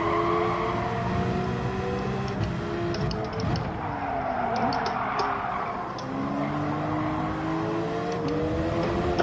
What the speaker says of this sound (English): A big scurry ass noisy car behind us.